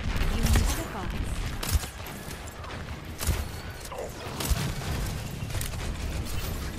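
Repeated booming blasts and rapid gunfire burst through a competitive multiplayer shooter match on the Rialto map, with heavy low thumps recurring every second or so under a constant roar of combat.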